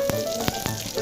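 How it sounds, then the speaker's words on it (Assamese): Chopped dry fruits frying in a little ghee in a kadai give a steady, soft sizzle with a few sharp ticks and pops, close but fairly quiet, over a faint background hum. "অকণমান ঘিত ভাজিছোঁ"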